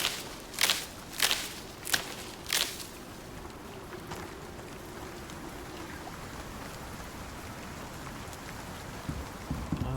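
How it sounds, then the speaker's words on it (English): Rain falls on the exo-planet Olympus in the video game ICARUS as a steady hiss. A few sharp footstep-like thumps sound early on, then the rain continues evenly on its own. "Oh, the rain comes."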